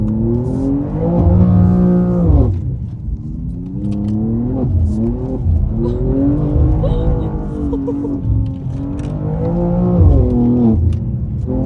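A BMW M2 engine revs up and down repeatedly at high speed, its pitch rising and falling as the car slides sideways in third gear through corners.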